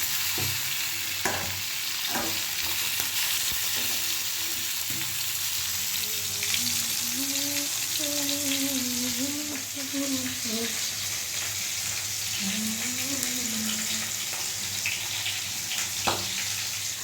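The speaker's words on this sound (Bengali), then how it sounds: "এবার চলেন মাছগুলো ভেজে নিব। বেশি ভাজবো না, হালকা করে ভাজবো" Fish pieces lightly frying in a pan for a home-cooked curry, a continuous loud sizzle and crackle with occasional scraping from stirring, and a faint voice or tones drifting in the background.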